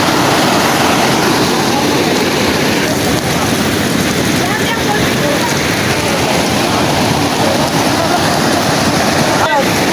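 Powerful waterfall at Puyawon Falls in Gigaquit, Surigao del Norte, roaring as a loud, steady broadband wash that fills the whole stretch without a break.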